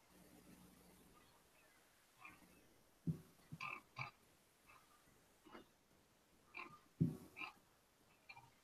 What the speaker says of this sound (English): I hear a frog croaking in the background.